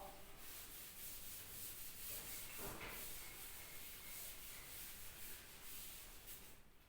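A duster rubs writing off a board during a maths lesson, giving a steady, continuous scrubbing hiss for several seconds with no talk.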